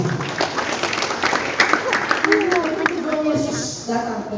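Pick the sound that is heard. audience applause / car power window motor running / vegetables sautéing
audience applause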